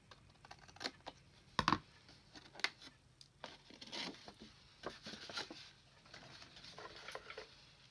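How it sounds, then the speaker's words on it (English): Paper is cut at a shallow angle while making ephemera from recycled material, heard as a string of quiet crisp snips and small clicks, irregular and close, with no one speaking. "I'm going to cut at a little, just a shallow angle here as well"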